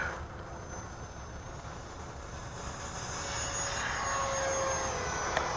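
Freewing Rebel V2 RC jet running on a 4S battery passing down the flying range, a steady whooshing ducted-fan roar that swells gradually louder toward the end, with no voices.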